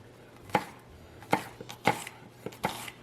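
A knife chops on a cutting board in five sharp, close thuds spaced unevenly about half a second apart, with quiet pauses between and no talking.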